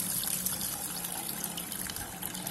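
Soaked tamarind water is strained into a bowl in a home kitchen while making fish curry, a continuous soft trickle and splash of liquid, close and fairly quiet.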